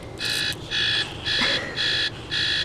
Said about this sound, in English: I started hearing that annoying alarm clock noise going off